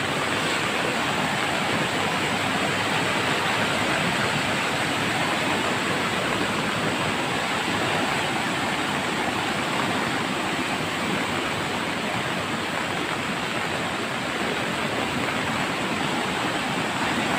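A river swollen after heavy rain rushes in a dense, continuous roar, loud and steady without a break.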